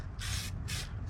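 Chrome spray paint hissing from an aerosol can onto model kit parts for an AMT 1934 Ford pickup, two steady bursts of broadband spray over a low background hum, close and fairly quiet.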